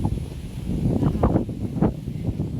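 Strong wind on a hilltop view deck at Tinawagan Hills in Bicol, a continuous low rumbling buffet against the microphone with a few louder gusts and faint rustling, near and steady throughout.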